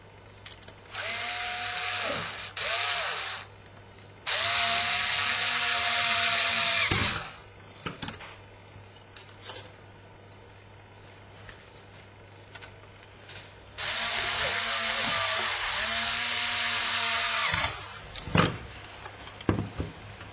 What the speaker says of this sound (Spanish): Colocamos de nuevo los 4 tornillos en los laterales